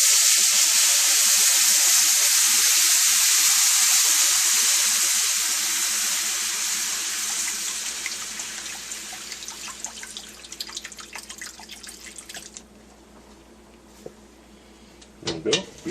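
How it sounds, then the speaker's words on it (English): Beef broth poured into a hot, sizzling pan while making Salisbury steak with onion mushroom gravy: a loud rushing hiss and sizzle that gradually fades over several seconds into quieter bubbling, with a few clinks near the end. "Alright, now time to add the beef broth."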